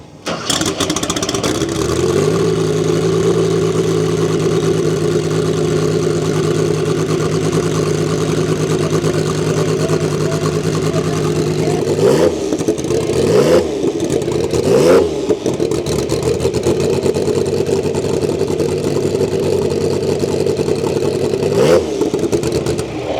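Porsche 935 turbo race car engine cranking and catching, then settling into a loud steady idle with several sharp throttle blips, heard close up with no talk.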